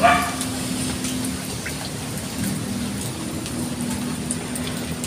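Steady rain patters on a surface, a constant dense hiss with occasional faint drips.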